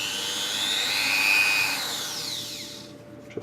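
A mini rotary engraving tool bought from AliExpress runs at high speed with a thin steady whine that drops in pitch as it spins down near the end, close and fairly loud, then a small click.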